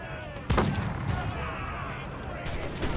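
Ship cannons fire during a naval fight in Assassin's Creed Black Flag, a sharp blast followed by further booms and a steady roar of battle, with faint speech over the top.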